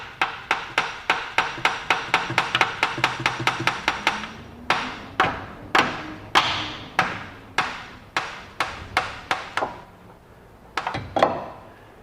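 Sharp metallic hammer strikes tapping out the front right axle of a 2014 Chrysler Town & Country, close and loud, in quick runs of taps with brief pauses between bursts.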